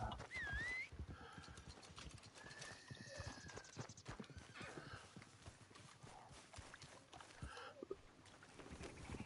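A horse's hooves clip-clop steadily at a gallop in Red Dead Redemption 2, and a neigh rings out near the start, with game sounds underneath.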